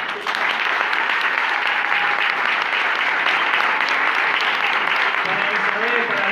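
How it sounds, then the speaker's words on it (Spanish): Loud, sustained applause from a festival crowd at a community cultural celebration in Uruguay, honoring the live orchestra, with a continuous wash of clapping and a faint murmur of voices beneath. "Le voy a pedir un fuerte aplauso para nuestra orquesta"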